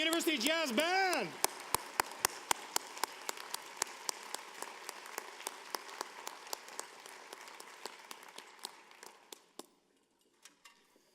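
Audience at a fall university convocation applauding a university jazz band, the band's final sung note fading into scattered, sparse claps that thin out and die away, heard from a distance in a large hall.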